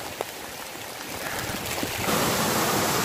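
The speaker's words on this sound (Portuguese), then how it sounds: "Presencie, meus amigos, uma tromba d'água de perto." Heavy rushing water from a flash-flood torrent beside a campsite during intense rain, a steady broadband roar that swells louder partway through, with no voices.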